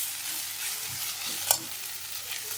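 Grated coconut sizzles and crackles gently in a hot pan while being stirred for vermicelli upma, a soft continuous frying hiss with one brief sharp clink of a spoon midway.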